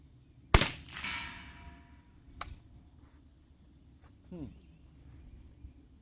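Two sharp, loud cracks from a Remington Speedmaster 552 semi-automatic .22 rifle firing Winchester 42-grain rounds outdoors, spaced about two seconds apart, each with a brief decaying ring, followed by quieter handling noise and a voice.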